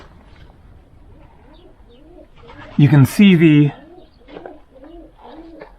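Pigeons coo at old dovecotes on Tinos island in the Aegean, a short burst of low, rolling calls standing out clearly over quieter background sound while a person talks nearby.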